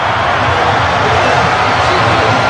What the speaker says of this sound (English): The crowd have gone wild.